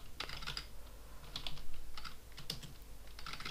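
Keys clicking on a computer keyboard while HTML tags are typed, irregular bursts of quiet taps and pauses, faint and alone.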